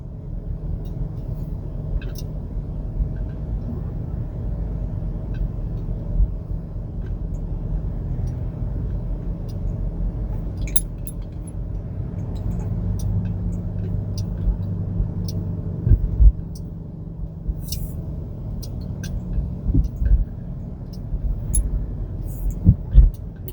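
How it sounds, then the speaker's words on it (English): A rideshare car driving through Honolulu city streets in Oahu, Hawaii, heard from inside as a steady low engine and road rumble with occasional small clicks and bumps, and someone talks briefly. "So just driving down Honolulu Street, right?"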